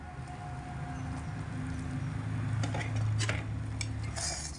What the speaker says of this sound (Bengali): তো এবার ঢাকনা চাপাটা খুলে দিচ্ছি